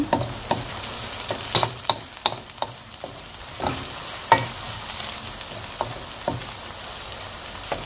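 Sliced bell peppers fry with a steady sizzle in a pan while being stirred, with irregular scraping and knocking strokes of a utensil against the pan throughout.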